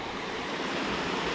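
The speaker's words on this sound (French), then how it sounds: "Et on voit ici là, le ruisseau qui coule." The Ruisseau des Érables flows steadily along a trail in the Hautes-Gorges national park, a constant full rushing wash of water, close and fairly loud, with no voices.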